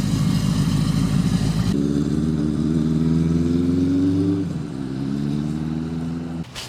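A 1979 Suzuki GS1000 motorcycle rides past with a loud, steady mid-range engine drone that shifts pitch as it passes, then eases and fades near the end.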